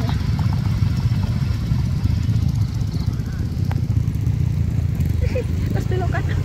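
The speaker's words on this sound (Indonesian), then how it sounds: "Kayak main prosotan tapi naik motor" Motorcycle ridden along a mountain trail on Mount Galunggung, its engine a steady low drone close by throughout, with some faint rattles and clatter on top.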